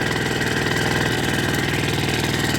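A Wacker BS52Y vibratory rammer with its engine running steadily at idle, a loud, close, continuous mechanical chugging with an even rapid pulse and no voices.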